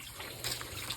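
Low water trickles through a shallow creek, a faint, steady burble with small gurgles, heard close and quiet without talk.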